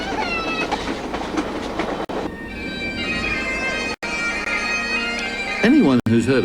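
Passenger train slowing as it pulls into Banff station in the Canadian Rockies, loud close rumble and rhythmic clatter of wheels with rising squeals and tonal whines near the end, a voice briefly over the noise.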